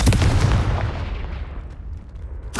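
A Confringo blasting curse from Hogwarts Legacy goes off in a sharp, booming explosion that decays into a long rumbling tail, followed by a brief burst at the very end.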